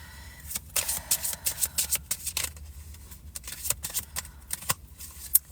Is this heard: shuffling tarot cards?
yes